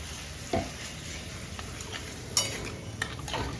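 Stirring and sautéing spiced food with cabbage and a splash of cold water in a pan, a soft continuous sizzle with occasional utensil scrapes and clinks close by, no talking.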